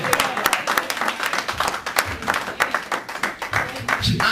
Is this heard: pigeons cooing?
no